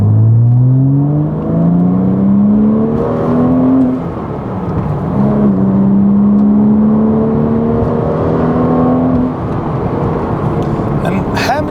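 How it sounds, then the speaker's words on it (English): A Porsche 987.1 Cayman S mid-engine sports car revs and pulls away hard in second gear, rising in pitch with a strong, close engine note and a brief lift before climbing again. "I'll pull away in second and have a bit of fun."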